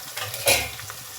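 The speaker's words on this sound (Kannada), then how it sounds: "ಸ್ವಲ್ಪ ಅದು ಫ್ರೈ ಆಗ್ತಾ ಇರಲಿ" Raw papaya palya frying in a pan, with a steady close sizzle and one brief louder scrape of stirring near the middle of the short stretch.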